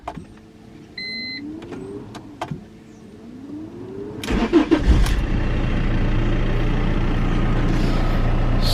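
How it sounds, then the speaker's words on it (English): A diesel BMW E46 on a cold day: glow-plug cycling brings faint clicks and chimes, then the starter cranks briefly and the engine catches into a steady, loud idle that continues alone. "let's get this thing fired up from a cold start"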